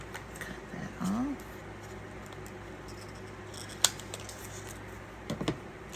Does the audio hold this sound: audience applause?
no